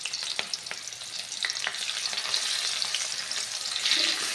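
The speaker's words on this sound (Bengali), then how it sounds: "এর মধ্যেই দিয়ে দেব 2টো মিডিয়াম সাইজের পেঁয়াজ কুচি। এবার এই পেঁয়াজটা কিছুক্ষণ নাড়াচাড়া করে নেব।" Two medium chopped onions fry in hot oil in a village kitchen pan, a continuous close sizzle punctuated by a handful of crisp spatula scrapes as they are stirred, with the hiss swelling toward the end and no speech.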